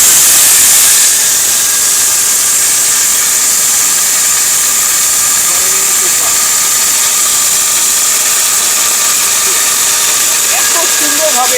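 A high-powered kitchen blender, a model called Tufan, grinds dry lentils into gram flour, a loud steady whirring motor roar that starts abruptly and holds constant, with a faint gritty rattle and a voice talking underneath.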